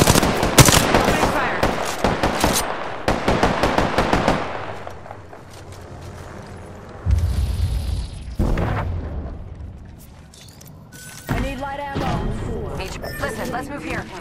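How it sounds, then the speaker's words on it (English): Gunfire in the shooter game Apex Legends, with rapid bursts of automatic shots in the first four seconds and heavier booming blasts and impacts later, loud and close over game sound effects. "Opening fire."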